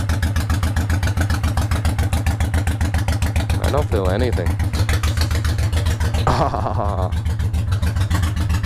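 A motorcycle fitted with Cobra drag pipes idles loudly and steadily right beside the listener, its rapid even exhaust pulses continuous throughout, with brief voices speaking over the rumble.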